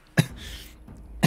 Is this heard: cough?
yes